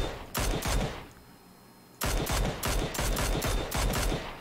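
Rapid bursts of PUBG gunfire crackle close and loud in two clusters, a brief quieter gap between them, with no talking over the shots.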